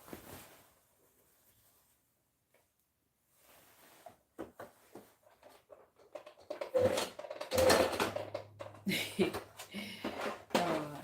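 A sewing machine stitches fabric for a dress in a quiet room, starting with short soft bursts and building to louder, steady mechanical whirring runs near the end, with a voice speaking now and then.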